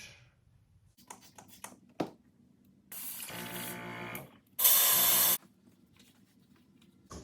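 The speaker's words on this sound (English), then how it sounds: "Once again, I'm gonna have to clean out the airbrush." An airbrush being cleaned between paint colors on a fishing lure gives two separate bursts of spray hiss, the second louder and sharper, amid quiet clicks and handling noises.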